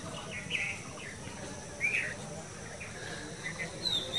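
Birds chirping around a village rooftop among trees, a few short bright calls and tweets over a soft steady outdoor hum with faint insect buzz, no talk.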